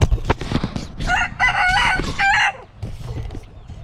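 Chickens cluck in a farm aviary while a rooster crows loudly and close by, its long harmonic call filling the middle of the clip between shorter clucks and squawks.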